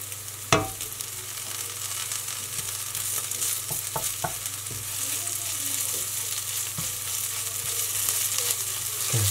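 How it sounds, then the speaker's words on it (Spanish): Tomato fries in a pan with a dense, even sizzle, punctuated by a sharp knock near the start and a few light utensil taps, close and loud, with no one speaking. "ahora tienes que esperar que te fríe el tomate"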